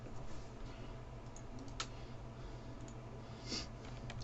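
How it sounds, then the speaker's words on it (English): Keys pressed on a computer keyboard, including the delete key: a few faint, sparse clicks over quiet room hiss, no talk. "just click on it and hit delete on your keyboard"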